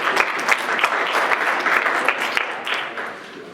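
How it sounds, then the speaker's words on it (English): Sustained applause from an audience at a state party central committee meeting, steady clapping filling the room with a few sharper claps standing out, no talking over it. "let's give them a round of applause"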